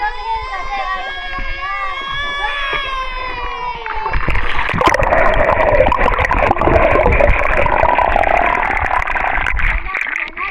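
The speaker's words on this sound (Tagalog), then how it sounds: "Lakas ang agos dito." A strong current rushes through a deep, hidden stream in the middle of a forest, a dense, loud, steady roar of flowing and splashing water. Someone speaks over it at first before the water noise swells and dominates.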